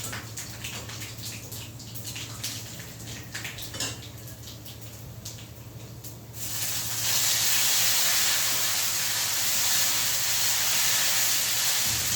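Water heating in a pot on a gas stove in a home kitchen, starting with faint clinks of dishes and then giving way to a loud, steady hiss.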